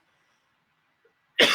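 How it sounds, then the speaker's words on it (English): A single sharp cough bursts out at the end after near silence. "I'm going to cough."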